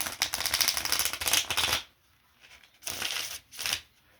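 A tarot deck is shuffled close up in rapid riffling bursts, one long run followed by a pause and two shorter bursts of crisp card flutter.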